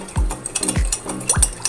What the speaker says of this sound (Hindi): चीनी इसमें मिक्स हो रही है